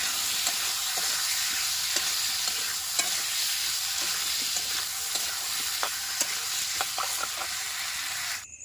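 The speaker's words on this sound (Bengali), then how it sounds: "আলুগুলোকেও ভালো করে কষিয়ে নিতে হবে মশলার সাথে" Diced potatoes being sautéed and stirred with spices in a pan for a rohu fish curry, with a steady close sizzle of frying under repeated scraping clicks of a spoon stirring against the pan.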